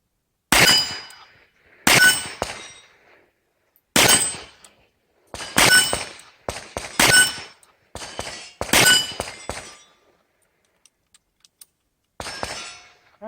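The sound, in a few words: Colt Python revolver fired double action at steel plate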